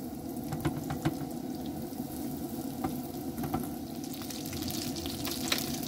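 Oysters frying in a pan over an outdoor campfire, a steady sizzle with scattered sharp pops and crackles, close and moderately loud with no talking.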